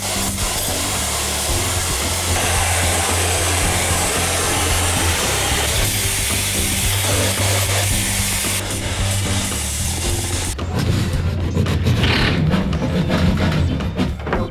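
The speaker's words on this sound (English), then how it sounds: "I'm just cutting a hole in the drywall for the plumbers right now." Power tool steadily cutting a hole through drywall during a bathroom renovation for plumbing access, a continuous loud grinding whir that shifts in tone partway and ends in a rougher scraping burst.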